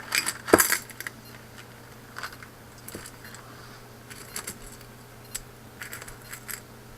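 Metal hardware for a Firepick Delta 3D printer arm assembly is rummaged in a bag and sorted by hand, with a sharp jangling clatter at first, then scattered small clicks and rattles.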